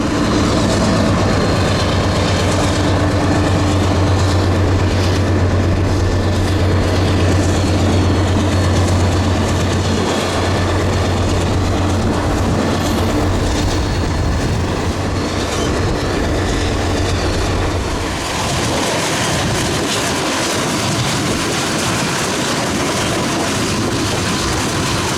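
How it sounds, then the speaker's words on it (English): A freight train hauled by IC GP40R and GP38-2 locomotives rolls past up close, a loud sustained rumble with an engine drone and rhythmic wheel clatter continuing throughout. "Liam and I decided we'd pace the train along this stretch"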